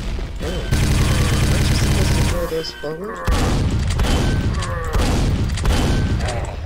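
Grenade explosions from the video game Quake boom in a dense, loud barrage of blasts and rumbling impacts, with brief bursts of talk and game effects between them.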